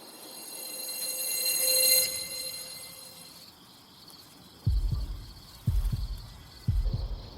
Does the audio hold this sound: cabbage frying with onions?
no